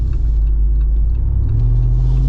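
Jeep Wrangler engine pulling at partial throttle, a steady low rumble that stays close and loud throughout, rising slightly in pitch partway through as it builds speed, with no talk.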